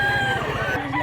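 A rooster crows briefly and loudly at a busy livestock market in Mantalungon, Cebu, a single harmonic call over low crowd noise.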